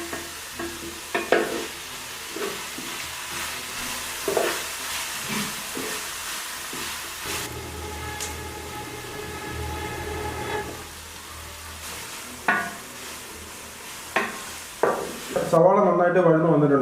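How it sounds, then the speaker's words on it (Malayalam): Sliced onions sautéing in a pan for a Kerala-style dish, a steady low sizzle with repeated scraping stirs and spoon knocks, close and moderately loud throughout, with a louder clatter near the end. "നമ്മുടെ സവാള നന്നായിട്ട് വഴന്ന് തുടങ്ങുന്നു."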